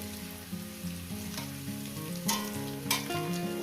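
Chopped vegetables fry with turmeric in a hot pan for a homestyle poppy-seed dish, giving a steady close sizzle with brief stirring scrapes, over a soft melodic background tune.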